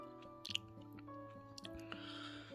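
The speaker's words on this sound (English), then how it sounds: "I'm having some snacks too" Soft, close chewing with a few crisp crunches, faint under a quiet background hum.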